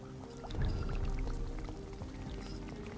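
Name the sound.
dripping water or glitched sound in Vampyr video game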